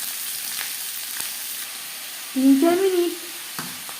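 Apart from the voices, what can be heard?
onions frying in mustard oil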